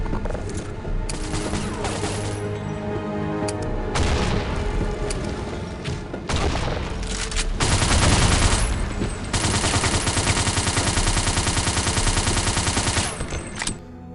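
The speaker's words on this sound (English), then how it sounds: "the sounds for the guns especially can beat AAA sound effects for Call of Duty or Battlefield" Gunfire in the Timeline Prologue Remod video game, with loud bursts of automatic weapons and rapid volleys of shots that start, stop and start again, close and dense, with no talk.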